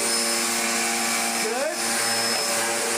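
A Hoover Dustmanager bagless vacuum cleaner runs with a steady, loud motor whine and airflow roar, holding an even pitch with a brief dip in tone near the middle.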